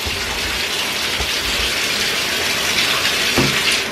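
Tap water gushes steadily into a bathtub, unplugged and draining freely, while a toddler's hair is rinsed, a constant close splashing flow throughout with no talk.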